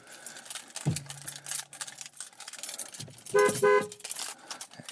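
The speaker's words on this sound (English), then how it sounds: "And I'm honking at Emily's dad." A car horn honks in a roadside setting, with a short low toot near the start and a brighter, louder blast toward the end over a busy background of traffic noise.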